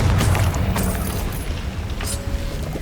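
Confringo blasting spell explosions in Hogwarts Legacy give a sustained deep booming roar with crackling bursts on top, loud and steady throughout with faint high magical tones near the end.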